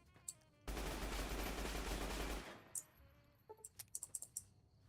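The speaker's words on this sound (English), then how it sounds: "let's do the 45 machine gun" A .45 machine gun fires in a video game, one close, continuous burst of rapid automatic fire lasting about two seconds, followed by a few scattered sharp clicks and taps.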